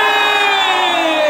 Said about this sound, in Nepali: उहाँहरूको जोडीको लागि एकचोटि जोड ताली